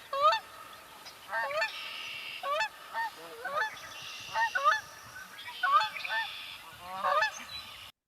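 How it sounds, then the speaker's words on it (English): Several Canada geese honk in short, scattered bursts, some overlapping, at moderate distance with quiet gaps between calls. "And here's what a lot of Canada geese sound like."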